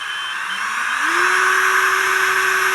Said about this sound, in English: And to countersink it, because I don't have anything like a proper countersink,